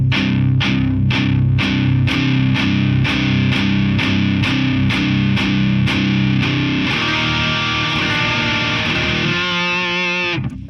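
Heavily distorted electric guitar played through a Figure 8 FX Bicep Vaporizer distortion pedal chugs in a regular run of picked chords, then rings out in sustained, buzzing notes before cutting off.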